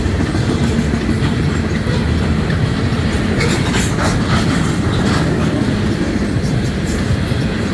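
CN freight train passes at close range at Ladysmith, Wisconsin, a loud continuous roar of wagons on rails with rhythmic clickety-clack and occasional metallic clanks and brief wheel squeals.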